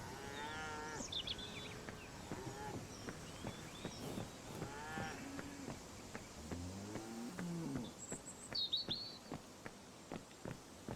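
Several cows moo repeatedly in Autobahn Police Simulator 3, loud and fairly close, beside a broken fence near a road, with scattered footsteps, faint bird chirps and steady background hum.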